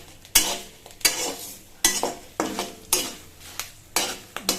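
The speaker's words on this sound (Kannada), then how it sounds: "ಇದೆಲ್ಲ ಮಿಕ್ಸ್ ಮಾಡಿಕೊಂಡು ಈಗ ಚೆನ್ನಾಗಿ ಮಿಕ್ಸ್ ಮಾಡ್ಕೋಬೇಕು ಮಸಾಲೆ ಎಲ್ಲ" Spices and salt for a tea-time snack being stirred with a metal spoon in a bowl, repeated scraping strokes with sharp clinks at a steady rhythm, close and fairly loud.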